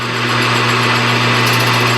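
Lathe facing off a scrap metal piece in a workshop, a loud steady motor hum with a continuous whirring grind and no talk.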